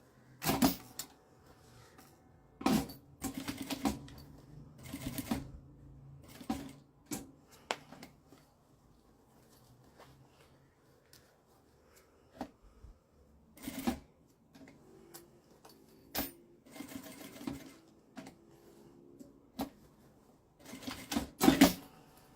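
A sewing machine stitches a zipper bag in short bursts of rapid mechanical whirring, separated by quiet gaps and small clicks from handling the fabric, close and fairly faint.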